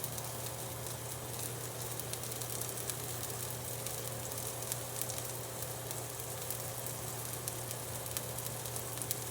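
Onions and a burger patty sizzle in a hot pan for a Gordon Ramsay–style burger night, a steady, dense crackling hiss that stays even and close throughout with no voices.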